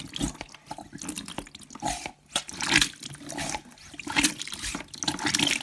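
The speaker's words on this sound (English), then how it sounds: "it is getting water out of the machine" Water gurgles and splashes in uneven surges, pumped out in bursts from a Bosch Serie 6 washer dryer during an emergency drain, with sputtering, pumping pulses close by.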